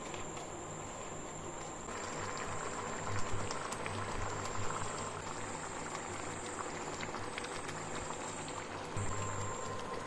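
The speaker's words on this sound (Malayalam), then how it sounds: "ഇതിനി നന്നായിട്ടൊന്ന് തിളച്ച് വേവണം" Ragi soup boiling in a pan, a soft continuous bubbling simmer heard close and steady for the whole stretch, with a faint high whine running above it and no voices.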